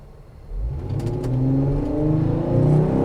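Car engine revving hard in a held downshift, pushed close to redline with a throttle controller on its U9 setting; a loud, steady, rising mid-range drone builds over about three seconds, with no talk.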